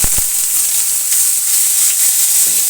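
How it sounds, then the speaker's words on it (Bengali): Cut potatoes and their peels sizzle in hot oil, a steady loud hiss of frying that continues evenly throughout with no talking. "তেলটা গরম হয়ে গেছে, আর এখন আমি দিয়ে দেবো সেই কেটে রাখা আলু আর খোসাগুলো"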